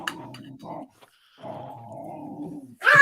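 A dog growling nearby, low rumbling growls in two stretches broken by a brief pause, ending with a sharper noisy burst.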